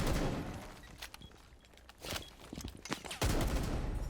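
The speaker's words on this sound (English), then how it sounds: "I'm just going to lay down covering fire" Bursts of rapid gunfire from Rainbow Six Siege, laid down as covering fire, crackle in clustered volleys with brief gaps between them; a final loud sustained burst closes the stretch.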